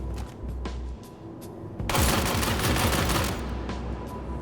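A Pulverizer light machine gun in Star Citizen fires a long, loud, sustained automatic burst lasting about two seconds, preceded by a few scattered single shots and mechanical clicks.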